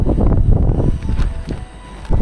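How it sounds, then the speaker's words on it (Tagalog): Strong, gusty wind batters a tuktuk camp at night during heavy weather, rising in rough rumbling bursts against the microphone with brief lulls between gusts. "Ayan o, ganyan kalakas yung hangin o."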